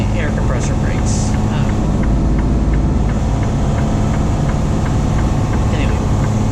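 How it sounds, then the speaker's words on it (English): Heavy truck with Jake brakes and air compressor brakes rumbling steadily up close, a loud low engine drone throughout with a few brief hissing bursts layered on top. "That loud you're hearing is my air compressor brakes."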